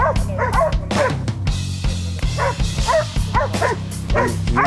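Several hunting dogs baying a hog, barking and yipping in rapid, overlapping bursts, loud and close, with a low rumbling background underneath.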